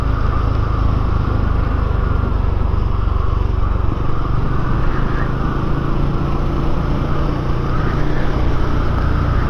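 A Benelli Imperiale 400 motorcycle rides along a country lane, its engine droning steadily up close with a continuous rumble and wind rush throughout, no voices over it.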